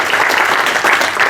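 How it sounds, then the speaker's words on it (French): A crowd at a French Communist Party political meeting in La Chapelle-Saint-Aubin claps steadily, a dense, close burst of applause with no talk over it. "Je crois qu'on peut vous applaudir"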